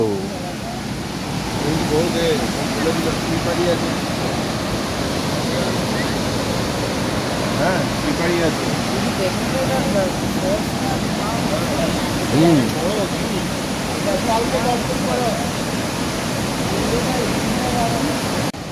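Dasham Falls near Ranchi is a waterfall. Its rushing water gives a constant broadband roar across the whole stretch, heard from stone steps leading down to its base, with people talking now and then over it.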